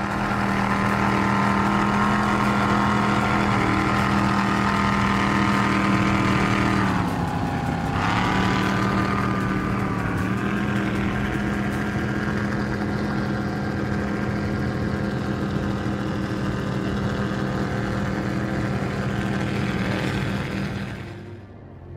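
Donzi ZR powerboat with bored-out 525 engines, Stage 2 Whipple superchargers and IMCO SCX drives, a loud, steady, droning engine roar that dips briefly in pitch partway through, then carries on before fading at the end.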